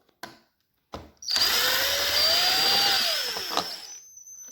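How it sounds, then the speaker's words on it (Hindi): A power screwdriver backs a screw out of a Toyota power seat: a couple of short taps, then a loud close whirring run of about three seconds whose pitch rises and sinks before it cuts off. "तो मैं इस स्क्रू को खोल लूँ।"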